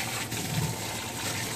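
Jet spray nozzle rinsing water through an Australian Shepherd's fur during a bath, a steady close hiss and gush of water running continuously without pause.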